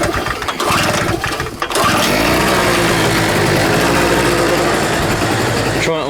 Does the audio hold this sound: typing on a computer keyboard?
no